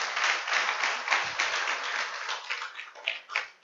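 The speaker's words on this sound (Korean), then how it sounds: "하나님 앞에 영광의 박수를 드립니다" A church congregation at a Sunday service in Chiang Mai gives a sustained round of applause, dense steady clapping that swells and tapers over several seconds with a few sharper claps near the end.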